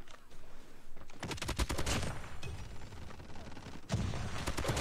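Rapid bursts of automatic gunfire crackle through a COD Mobile match, with dense fusillades and mechanical weapon clatter in several volleys, loud and close, with no talking.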